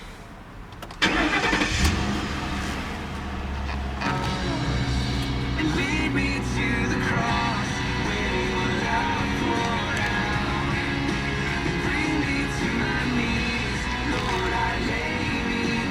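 A 2011 Ford Crown Victoria P7B police-package sedan cranks briefly and fires up, then settles into a loud, steady, even idle that continues unbroken for the rest of the stretch.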